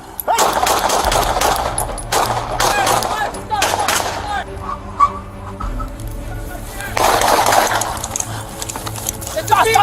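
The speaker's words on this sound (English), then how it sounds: "Shots fired." Gunfire erupts during a police confrontation in Boise, several sharp bursts and single shots, loud and close, mixed with shouting voices.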